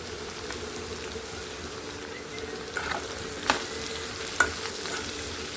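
Onion pieces sizzle steadily in a pan with turmeric and salt for a spiny bitter gourd curry, with a few sharper spatula scrapes and clicks as they are stirred close by, and no talking.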